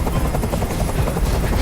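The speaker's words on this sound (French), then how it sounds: "Fais dégager cet hélicoptère, maintenant!" Helicopter hovering nearby in the video game Detroit: Become Human, a loud, steady rotor roar that fills the whole short stretch without pause.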